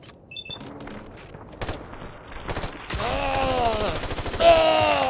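Gunfire in a modded Fallout 4 battle sounds as scattered sharp shots at first, then heavier sustained bursts mixed with groaning and whining effects, growing louder toward the end.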